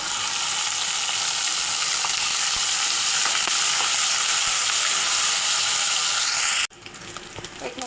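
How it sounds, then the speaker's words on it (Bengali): Ginger, garlic and cumin paste frying with onions in a pan for chicken bhuna khichuri, a loud, dense, continuous sizzle close up that cuts off abruptly near the end. "এই যে দেখুন আদা রসুন কষানো হয়ে গেছে"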